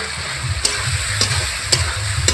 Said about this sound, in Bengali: খাসির মাংসটা দিয়ে অল্প একটু নাড়াচাড়া করে এভাবে কষিয়ে নিয়েছি